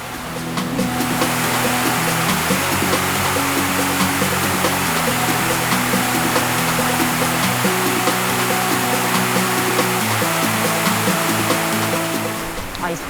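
A mountain stream rushes along an autumn forest trail in Odaesan, Pyeongchang, Gangwon-do, a steady, loud, broadband wash of flowing water close by, with a low hum running underneath and no talk.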